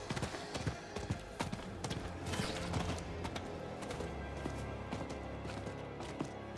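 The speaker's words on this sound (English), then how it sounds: "we'll ride the horse for a little bit" A horse ridden in the video game Diablo 4 clip-clops along in a steady, even rhythm of hoofbeats, moderately close and continuing without pause.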